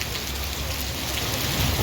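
Summer rain falls steadily on an outdoor schoolyard, a continuous close wash of drops with a faint low rumble rising toward the end and no talk.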